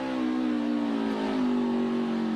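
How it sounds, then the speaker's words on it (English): NASCAR race car engine on a bumpy track at the 2023 Pit Boss 250, a steady loud droning engine note holding constant with a slight pitch wobble, alone without talk. "Listen to the engine here of AJ."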